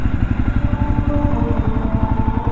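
A Jawa motorcycle engine idles close by while being parked, a loud, steady low thumping with a fast, even exhaust pulse throughout.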